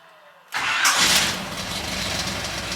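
A Small Block Chevy V8 cranks and fires at once, then settles into a loud, steady idle close by, with no talking.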